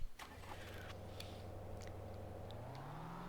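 A car engine in the video game Vein hums steadily at a low pitch and gradually rises slightly, with faint clicks and knocks scattered over it.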